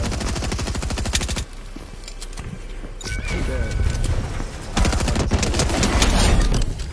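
Rapid automatic gunfire rattles in bursts during a Fortnite build-mode match, loud and close, separated by short gaps and followed by scattered shots, while players talk over it.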